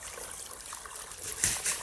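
A small waterfall on a rural property trickles and splashes in a steady, close stream, with a slightly louder gurgle near the end and no voices.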